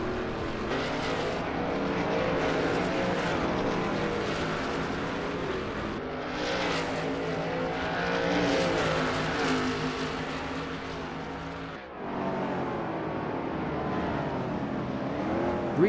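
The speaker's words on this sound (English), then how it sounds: "Three cars in perfect formation, creating a moving train on the circuit." Shelby Mustang GT350R race cars run in close formation around the Barbagallo circuit in a racing video game, with a loud, continuous engine drone that rises and shifts pitch as the cars accelerate and change gears.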